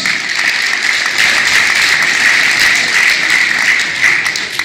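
An indoor carnival-session audience applauds the youth council's entrance, producing a loud, dense, continuous wash of clapping that holds steady throughout.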